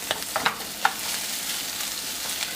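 Chopped vegetables for lentil soup sizzle softly in a hot pan, with a steady frying hiss and a few light clicks and scrapes of stirring.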